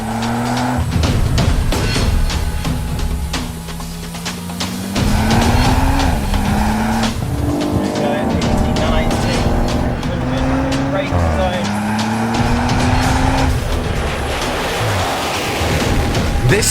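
An Audi RS4 is driven hard, its engine note rising and dropping through several gear changes with tire noise and gravel-like rushing, up close and loud with occasional voices over it.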